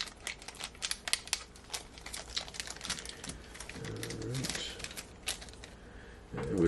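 Plastic crinkles and rustles in irregular bursts close by, with a brief voice partway through and a louder rustle at the end.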